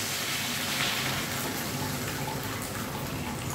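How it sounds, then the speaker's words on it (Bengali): Water poured into freshly fried spices in a pan while making a Bengali-style fish roe fritter curry gives a steady, even gushing wash that lasts the whole time. "এবার আমি এতে জল ঢেলে দিচ্ছি"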